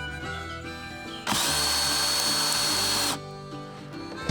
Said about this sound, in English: I'll hold the boards and then you will drill